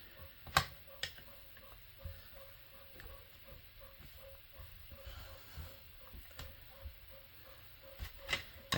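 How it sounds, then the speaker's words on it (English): Faint rhythmic ticking from a printer sits in the background of a quiet room during polymer clay work, with sharp clicks recurring every few seconds over a low steady hum. "My printer behind me has a beat."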